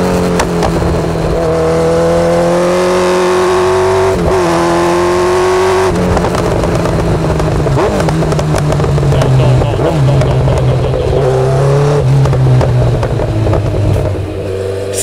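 A Kawasaki Z900 motorcycle with stock suspension pulls hard in second gear, its loud engine note climbing and holding close up through the run, with a rider's voice talking over it.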